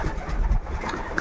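Racing pigeons coo steadily with low, throaty murmurs, close by, with a soft rumbling background and no talking.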